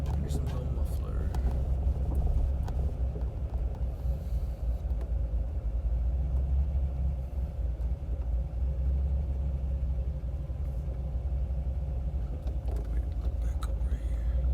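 A cammed C5 Corvette with a straight-pipe exhaust and a small muffler, a deep steady idle rumble heard close and continuous, loud throughout with faint voices in the background.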